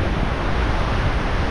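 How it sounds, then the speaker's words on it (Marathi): Waves at Diveagar Beach on the Konkan coast make a continuous, loud roar of surf mixed with gusty wind buffeting the microphone, with no speech. "बाकी इथं एवढ्या जोरजोरात लाटा येतात ना"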